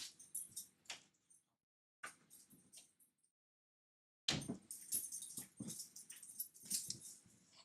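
A dog whimpers and snuffles indoors in short bursts separated by silences, followed by a denser run of whines and scuffling, close and fairly faint.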